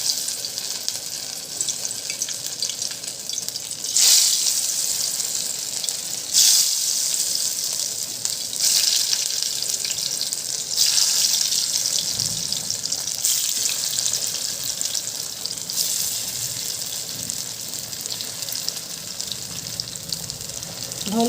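Cut taro leaves (saru patra) fry in hot oil with a continuous bright sizzle that swells in short bursts every couple of seconds, close and steady, with no voices.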